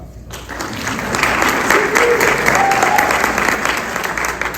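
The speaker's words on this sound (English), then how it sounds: "You can clap." An audience at a 2022 candidates forum applauds after a short silent lead-in, the clapping swelling to a loud, dense and steady roar that eases slightly near the end.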